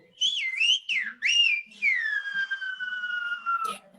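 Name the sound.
Silbo Gomero whistling without a finger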